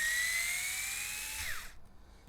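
A power tool whirs loudly at high speed while driving parts during an HPI Venture SBK RC car build, its pitch holding steady, dropping as it winds down, and then cutting off near the end.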